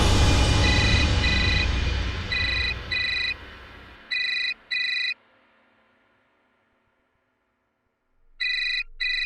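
A phone rings in repeated short double bursts, loud and electronic, fading out after a noisy rumbling start, then a silence before ringing resumes.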